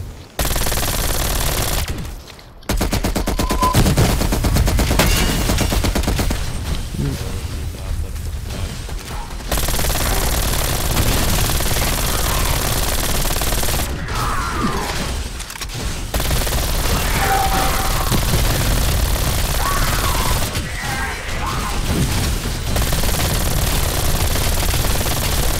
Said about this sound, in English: The new submachine gun, dude.